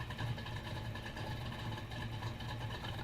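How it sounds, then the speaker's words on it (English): A high-powered car with a racing engine of about 740 horsepower idles steadily, a low continuous rumble at moderate level with no other sounds. "This thing, like, it sounds like it when it idles."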